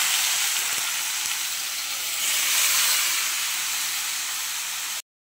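Small chuno fish slipped into hot oil for a spicy fish curry, giving a loud, continuous sizzling hiss that swells slightly midway, then cuts off abruptly.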